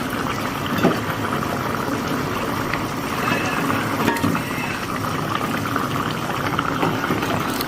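Eggs cooking in a pan on top of sautéed onions, a dense, continuous sizzle and bubbling hiss that runs steadily at close range with occasional small pops.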